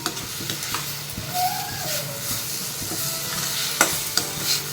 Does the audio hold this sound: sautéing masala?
yes